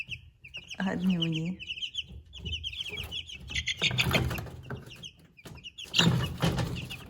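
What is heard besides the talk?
American breed chicks in a brooder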